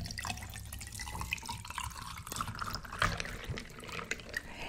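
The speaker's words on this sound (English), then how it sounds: "Let me pour my drink." Crystal Light flavored water being poured as a drink, heard as a close, fairly quiet trickle of liquid with scattered drips, with no talking.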